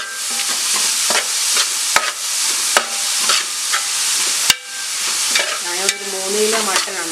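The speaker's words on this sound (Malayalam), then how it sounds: "നന്നായിട്ട് ഇളക്കി ഒരു ബ്രൗൺ കളർ ആവുന്നേരം വരെ ഇളക്കി കൊടുക്കണം." Ingredients for Malabar mutton curry being stirred and fried with salt, a steady loud sizzle broken by repeated scraping strokes of a spoon against the pan, with a few sharper knocks.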